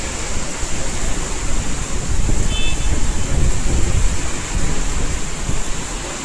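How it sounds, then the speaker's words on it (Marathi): Heavy rain pours down in a dense, steady roar with deep rumbling underneath, loud and continuous throughout. "पूर्ण धुवाधार पाऊस आहे बघा"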